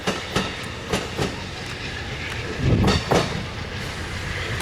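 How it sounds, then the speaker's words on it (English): An Amtrak passenger train rolling past at Cajon, loud and close, with rhythmic clickety-clack of wheels over rail joints beating at regular intervals over a continuous rumble. "Another Amtrak coming up right behind the Chief, actually."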